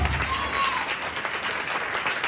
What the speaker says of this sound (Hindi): हाँ, ताली बजाओ इस मसीह के लिए।